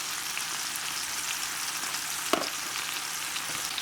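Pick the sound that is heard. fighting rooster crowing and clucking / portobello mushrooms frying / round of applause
portobello mushrooms frying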